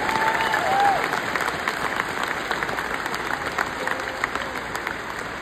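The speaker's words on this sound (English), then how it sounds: "I just want you to give all of those people a round of applause for such a great weekend." Audience applause at a gospel comedy concert, a steady wash of clapping from a large crowd that swells briefly near the start and then holds at an even level throughout.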